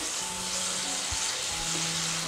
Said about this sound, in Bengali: শুটকি সহ আমি একটু ভালোভাবে কষিয়ে নিচ্ছি